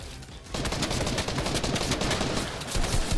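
Rapid gunfire from the video game Fortnite, a dense burst of sharp shots that starts abruptly after a brief quieter moment and continues as a rattling volley, with no talking.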